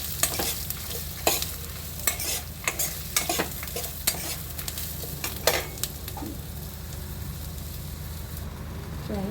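Thinly sliced red onions sizzle in a pan for radish chutney while being stirred, a continuous frying hiss punctuated by repeated scraping clinks of the spoon.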